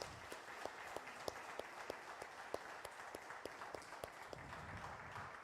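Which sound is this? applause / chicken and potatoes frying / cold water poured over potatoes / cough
applause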